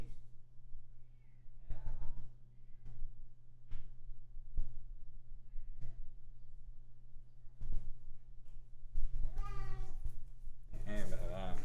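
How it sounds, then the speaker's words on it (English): A cat meows several times in a room, drawn-out cries building toward the end, heard over a steady low hum and scattered clicks while a person talks. "Is that a kitty?"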